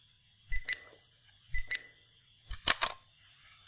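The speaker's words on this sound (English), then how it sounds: "So we get the beep sounds, it saves to file" Three short electronic beeps sound alone as a file saves on a computer, evenly spaced over a quiet background, with the last one louder and doubled.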